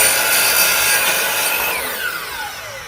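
A saw cuts through crown molding in one loud, continuous pass with a bright, rasping whine that slowly fades toward the end.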